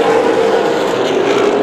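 Super late model race cars at speed on a short oval track in Las Vegas, a loud, steady engine roar with no break across the moment, heard from trackside.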